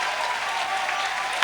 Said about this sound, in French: Mais encouragez-moi par des acclamations.